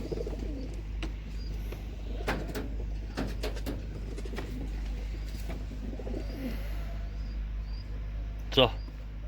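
Young spring-hatched pigeons coo softly in a loft, low repeated murmurs under a steady hum, with people talking nearby and a brief louder flutter near the end.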